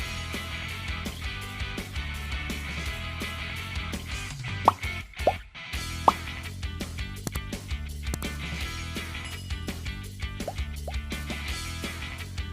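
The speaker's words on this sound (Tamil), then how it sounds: "தேவையான அளவு தண்ணி சேர்த்து எந்தவித கட்டியும் இல்லாமல் இதை கரைச்சி வச்சுக்கலாம்." Water is stirred into rava dosa batter of semolina in a bowl, giving soft wet sloshing and a few sharp plops and drips at a steady close pace with no talking.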